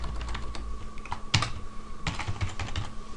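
Close, steady typing on a computer keyboard at the command line, with quick irregular clicks and a couple of heavier key strikes, and no talking.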